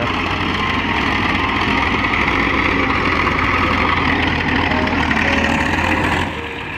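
An S16 tractor engine running: a loud, steady low diesel rumble held evenly for several seconds before it drops off slightly at the end, close to the machine.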